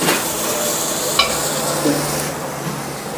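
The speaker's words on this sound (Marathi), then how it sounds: "चिकन मसाला आणि मटन मसाला असं परत आपण हलवून घ्यायचं" A spoon moves through chicken and mutton masala in a sizzling pot, giving a steady close hiss of frying with soft scraping stir sounds and a couple of light knocks against the pot.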